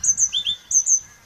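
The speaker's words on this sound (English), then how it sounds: "Sorry for the noisy bird." A bird calls nearby with a few quick, high chirps in two short bursts, heard clearly against a quiet background.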